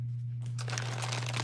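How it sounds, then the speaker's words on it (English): Three decks of tarot cards are shuffled on a table, a continuous close crinkling and riffling rush that starts abruptly and carries on steadily, under a low steady hum, with no talk. "I have 3 decks sitting in front of me that I am shuffling up to get ready for you."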